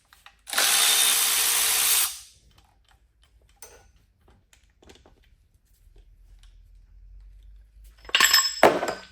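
A power tool whirs loudly for about a second and a half while undoing oil pump bolts on a PSA 1.2 Puretech engine, followed by quiet metallic clinks and ticks, then a second brief burst of the tool.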